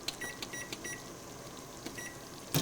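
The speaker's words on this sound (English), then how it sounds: "Put my timer on." A kitchen timer gives a short series of faint electronic beeps repeating at a steady pace, ending in one louder burst of noise near the end.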